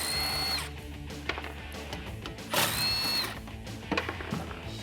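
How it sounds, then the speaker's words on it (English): Power tool with a 5/32 Allen head socket removing bolts from a roll bar on a Ford F150, whirring and ratcheting in uneven bursts with a couple of sharp spins. "go ahead and remove these 2 bolts, again using that 5/32 Allen key or Allen head socket."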